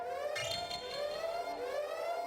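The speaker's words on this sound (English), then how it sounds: "Turned off the alarm as well." Alarm siren in the video game Everhood 2, a steady wailing electronic tone that rises and falls in a continuous loop, loud and clear with no voices over it.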